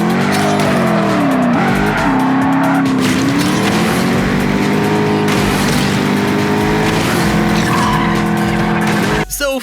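Race cars in the mobile racing game Ace Racer roar close and loud, engines revving and shifting pitch while tires squeal through skidding drifts, a continuous high-energy burst with no gaps.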